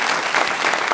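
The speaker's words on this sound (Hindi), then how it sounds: "बहुत तालियां" A brief, dense burst of clapping from a TV talk show studio audience, steady and fairly loud throughout.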